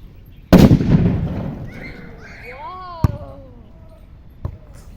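A firecracker bangs once sharply and loudly to launch a ball, followed by a decaying rumble, then faint voices and two later small pops.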